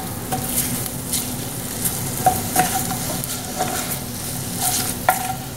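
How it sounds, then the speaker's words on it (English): Mushrooms sizzling as they fry in melting fat in a pan, a steady close crackle broken by occasional clinks and scrapes of a utensil stirring against the metal. "just melt the rest of it down here with these mushrooms and this nice coating"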